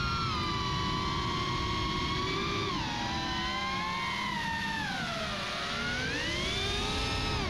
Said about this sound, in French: Donc on entend les moteurs qui se comportent bien